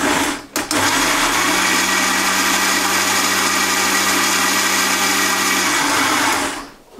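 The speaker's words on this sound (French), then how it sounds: "je vais donner un petit coup de mixage" A blender runs steadily, mixing coconut, flour and sweetened pineapple purée, a loud continuous motor whir for about five seconds after a brief knock, then winding down.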